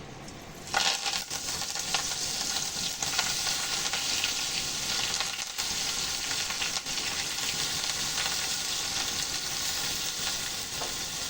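Eggplant sizzles steadily in hot oil in a pan after asafoetida goes in, a loud continuous frying hiss with faint crackles and no voices.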